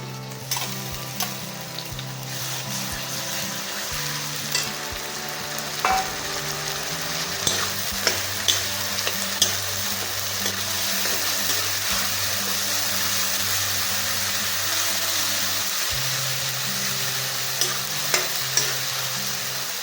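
Ginger garlic paste sizzles and fries steadily in hot oil while cooking pork with fiddlehead fern greens, with occasional stirring scrapes and clinks over a constant hiss.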